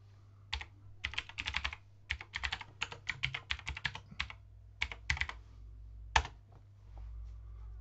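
Login credentials typed on a computer keyboard, close and clear, in quick bursts of key clicks with short pauses between, followed by a final isolated keystroke and quiet room tone.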